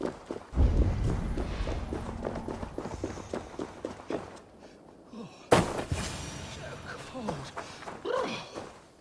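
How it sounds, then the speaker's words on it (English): Hooves of a horse in Assassin's Creed Valhalla plod along in a steady clip-clop, close and fairly loud, with a brief gap midway before the footfalls resume. "Patience is a tired horse. Ploddity plod plod."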